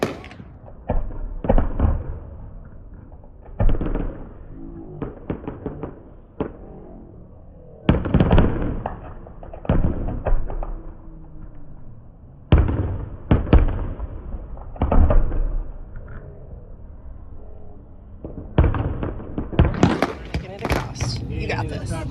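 Fireworks go off in separated bursts, each a sharp bang or crackling cluster followed by short pauses, with people talking nearby between and over the explosions.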